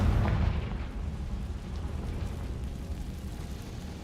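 A Confringo fire spell exploding in Hogwarts Legacy: a deep booming blast up front that decays into a rumbling, crackling wash, no talking.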